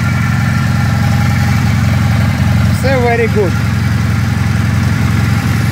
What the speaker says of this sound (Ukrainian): Двигун, як бачимо, працює як часи.